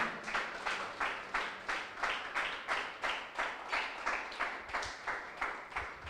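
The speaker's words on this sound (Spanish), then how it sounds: "Dele ese aplauso al Señor" A church congregation claps in a steady, even rhythm, each beat regularly spaced and fairly faint, sounding like rhythmic worship clapping rather than scattered applause.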